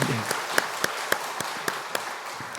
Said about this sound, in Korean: 우리 박수로 격려하고 축복하겠습니다.